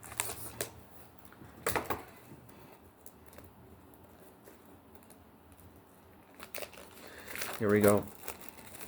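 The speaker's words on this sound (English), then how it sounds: "I'm taking the cellophane off, plastic, whatever you want to call it these days" Plastic cellophane wrap crinkles and tears off a package in short bursts near the start and louder at the end, with a voice speaking briefly over it.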